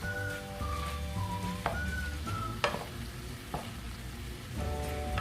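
Zaalouk, a Moroccan salad, is stirred with fresh coriander, parsley and garlic, giving a steady sizzling hiss with several sharp utensil clicks and scrapes against the pan, and a faint tonal whine in the background.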